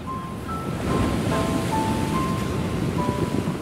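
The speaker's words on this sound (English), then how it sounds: "walk on the beach, and simply relax while enjoying the sound of the waves" Atlantic Ocean waves wash in at Strandhill beach on Ireland's west coast, a steady, close surf roar mixed with wind noise and faint tonal hums.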